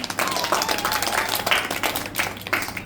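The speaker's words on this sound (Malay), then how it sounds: "Okey, tepuk tangan." Guests clap together at cake-cutting time during Rania's ninth birthday party, a lively, uneven patter of hands at moderate loudness with some background voices.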